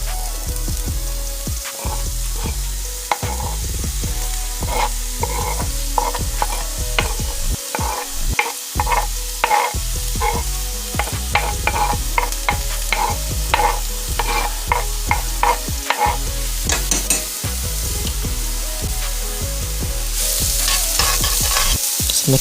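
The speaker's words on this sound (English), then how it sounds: "Adding all the chopped ingredients. I'm going to saute them in the olive oil on a low heat." Chopped stuffing ingredients for stuffed mushrooms sauté in olive oil over low heat, a continuous soft sizzle broken by frequent close scraping and clacking strokes of stirring, with no voices.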